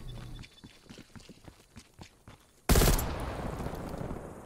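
Gunfire in the Call of Duty Cold War Gun Game mode: a run of soft, quick shots, then one sudden loud blast that rolls into a sustained, dense roar of fire.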